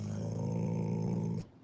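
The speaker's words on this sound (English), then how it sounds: "We don't bark at the delivery man." A dog growls in one low, steady, continuous rumble lasting under two seconds, fairly close and loud, then cuts off abruptly.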